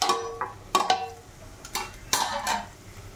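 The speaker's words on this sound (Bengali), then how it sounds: "যতক্ষণ না এটা বেশ সুন্দর ড্রাই হয়ে যাবে ততক্ষণ পর্যন্ত এটা কিন্তু নাড়াচাড়া করতে হবে।" Metal spoon scraping and knocking against a pan as okra is stirred dry over heat, a few irregular clinks and scrapes, close and fairly quiet.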